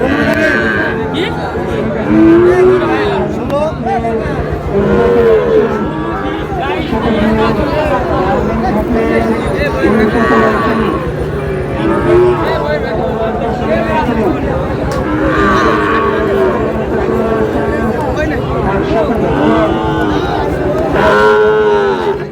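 Sahiwal bulls at a busy cattle market near Sylhet moo repeatedly, loud and close, over a constant crowd of chattering voices and people talking nearby.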